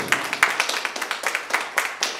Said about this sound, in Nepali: मिलनजीको लागि जोरदार तालीको आह्वान गर्न चाहन्छु